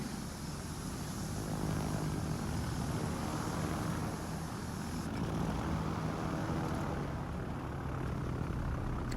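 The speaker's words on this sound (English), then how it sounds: "Torpedo bombers away." Torpedo bomber aircraft flying in the video game World of Warships, a steady loud propeller-engine drone that holds throughout with no pause.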